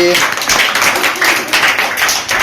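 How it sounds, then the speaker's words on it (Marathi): Schoolchildren at a National Science Day event in a Zilla Parishad primary school clap for a classmate named Veer, a loud, fast, continuous patter of many hands, with voices mixed in. "अजून टाळ्या वाजवा वीरसाठी."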